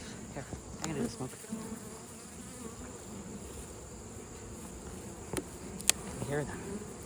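Steady honey bee buzzing around a hive fills the background, a faint swarming hum with occasional louder passes nearby and a few clicks and handling noises.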